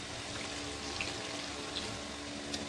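Hot water poured into a pot of mutton curry cooking on the stove, a steady, faint rushing pour with a soft sizzle that runs unbroken throughout, with no voices over it.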